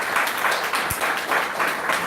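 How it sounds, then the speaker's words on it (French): An audience applauds at a live televised event, a dense, steady wash of clapping with a few sharper individual claps, with no talk over it. "si vous pouvez applaudir"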